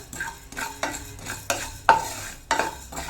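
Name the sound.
dry roasting coriander seeds in a pan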